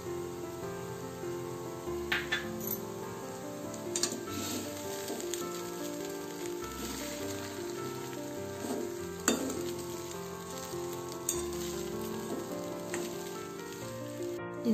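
Roasted, crushed peanut powder is stirred into kadli bele usali frying in a pan. A steady close sizzle and crackle runs throughout, with occasional spoon scrapes and clinks and no voices.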